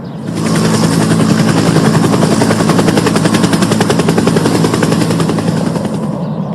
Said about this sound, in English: Why is the police helicopter here for?